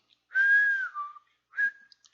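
A human voice whistles an imitation of a navy boatswain's pipe call aboard ship: a long, steady high note that slides down, a short pause, then a brief second note, clear and alone.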